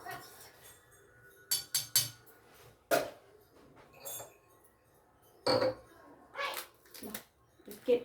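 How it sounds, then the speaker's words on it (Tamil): Scattered sharp clinks of dishes and utensils while milk is mixed for a baby, set against a quiet room with faint sounds between the knocks. "இப்போ குழந்தைக்கு வந்து நான் பால் கலந்து கொடுக்குறேன்."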